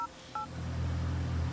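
Phone dialing in The Sims 3 video game: two short, quiet keypad tones, one right after another, followed by a soft rising background hum.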